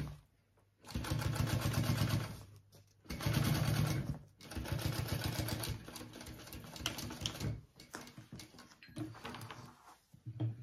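A sewing machine stitches a tag-along bag in repeated bursts of motor hum and needle clatter, each run lasting a second or two and separated by short pauses, close and fairly loud.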